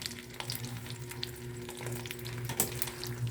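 Smoked milkfish frying in a pan, crackling and spitting oil in dense irregular bursts with a steady low hum underneath, close and fairly loud with no talking.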